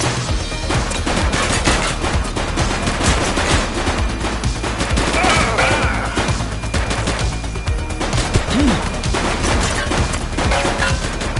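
Sustained automatic gunfire fills a shootout in the video game The Precinct, with loud, rapid bursts and sharp cracks running nearly nonstop.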